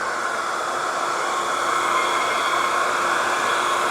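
A hair dryer used as a heat source blows steadily to warm the adhesive on a Joytutus rear spoiler for a Tesla Model 3, giving a constant close airy whoosh with a faint whine.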